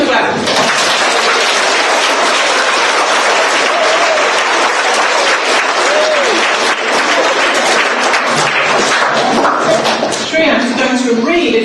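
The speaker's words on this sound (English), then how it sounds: "Let's give him a clap." An audience claps for an author about to read from his book, giving loud, sustained applause with a few brief vocal sounds mixed in near the end.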